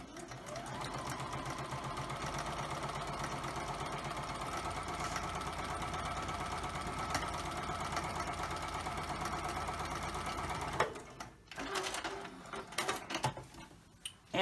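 A sewing machine stitches quilt pieces for a twisted rail fence block, running in a steady fast hum with rhythmic needle ticking for about eleven seconds, then stopping into quieter handling clicks and rustles.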